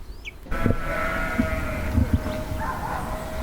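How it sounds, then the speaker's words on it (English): Sheep and lambs bleating on a farm track as a pony and trap passes, several short calls overlapping at moderate distance over steady outdoor background. "The sheep and lambs get excited as a pony and trap comes by."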